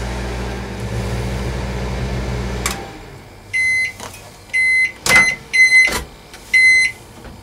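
A microwave oven runs with a steady low hum for under three seconds, then stops and gives a series of about six loud electronic beeps in short bursts, in a travel trailer being built as a DIY project.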